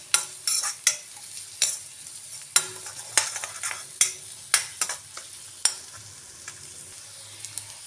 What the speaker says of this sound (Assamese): এতিয়া আকৌ মই 1-2 মিনিটমান সময় লৰাই ল'ম।